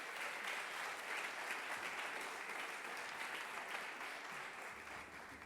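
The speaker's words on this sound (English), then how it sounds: "They deserve a dedicated round of applause," An audience in a theater applauds, dense and steady clapping spread across the hall that holds even for several seconds and then eases slightly at the end.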